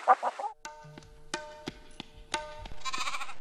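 Chickens cluck in short repeated bursts at a rural farmyard, close and clear, with a bleat-like call in the middle and a rough gravelly stretch of clucking at the end.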